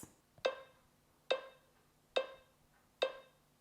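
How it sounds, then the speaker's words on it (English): A metronome set to 70 beats per minute ticks four times, evenly spaced, each click sharp and bright with a short ringing decay, alone and fairly quiet. "So if I was to set my metronome to about 70 beats per minute,"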